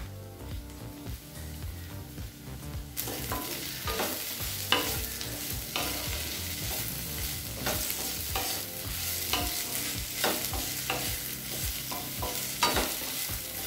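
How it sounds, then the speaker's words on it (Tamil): Thinly sliced bitter gourd stir-fried in a pan for pavakkai fry, with a steady sizzle and repeated scraping stirs throughout, growing louder and busier after the first few seconds. "இப்போ பாவக்காயை நல்லா வதக்கிக்கலாம்."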